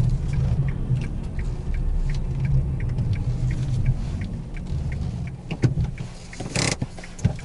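A taxi car's engine rumbles low and steady while parking, close inside the cabin, with a few clicks and thumps near the end and no talk.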